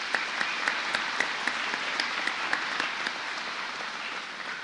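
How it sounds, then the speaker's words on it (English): Audience applause for a graduate at a 2014 Terra Community College commencement ceremony, a steady dense clapping from a large crowd that fades slightly toward the end, with no talking over it. "Let's give him a round of applause."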